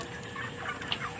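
Grown chickens on a poultry farm, a few faint clucking and squawking calls over a constant background hum, no talking.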